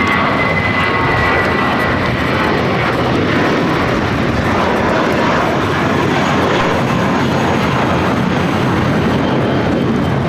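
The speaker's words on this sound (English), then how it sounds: "This is Spirit Airlines 2567 taking off to Louisville on the A320." A Spirit Airlines Airbus A320 takes off at LAX with a loud, rushing jet roar and a brief high whine early on, sustained and steady with no talk over it.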